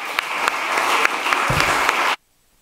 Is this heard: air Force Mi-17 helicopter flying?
no